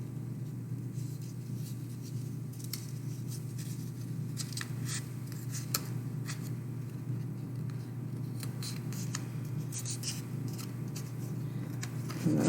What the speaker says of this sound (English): and then I'm going to cut on those lines.